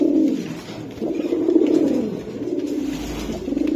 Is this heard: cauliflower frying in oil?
no